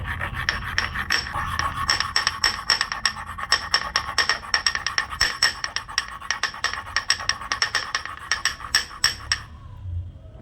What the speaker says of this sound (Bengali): এখন চন্দনটা বাটবো। এই চন্দনটা এটা এখন বেটে নিই।